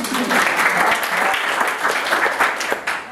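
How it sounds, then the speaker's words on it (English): A burst of applause, many hands clapping together in a dense, steady patter that continues throughout. "so round of applause"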